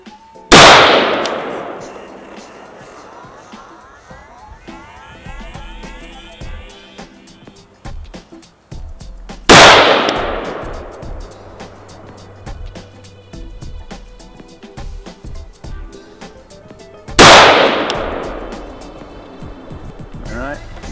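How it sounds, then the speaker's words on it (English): Gunshots from a Colt Trooper M4 LE6920-R rifle fitted with a Hyperfire EDT trigger, three loud, sharp single reports spaced several seconds apart, each followed by a ringing echo over faint background noise. "It's way more pleasurable to shoot."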